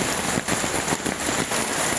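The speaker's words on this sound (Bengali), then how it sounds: "প্রচুর পরিমাণে বৃষ্টি হচ্ছে" A loud, close downpour of heavy rain drums on surfaces in a continuous roar, with a few heavier bursts of splashing standing out.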